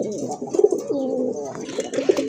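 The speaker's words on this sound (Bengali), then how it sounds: "মাশাল্লাহ আরেক জোড়া কবুতর, যদিও দুই প্রজাতির কবুতর" Pigeons kept for sale, including a Lahori breed, coo in soft repeated low rolls close by, with a faint voice briefly in the background.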